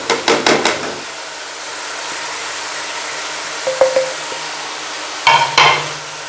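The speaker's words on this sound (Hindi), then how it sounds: "अब इनको अच्छी तरह भून लेना है।" Gravy with dry spices being fried for an arbi (taro root) curry, a low sizzle under a few clusters of sharp spoon scrapes and clanks against the pot at the start, middle and end, no speech.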